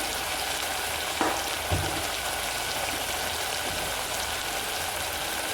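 Ginger-garlic paste, turmeric and coriander-cumin powder sizzle in hot oil for a mung bean curry. A steady, close frying hiss is broken by a couple of soft utensil knocks, with no talk.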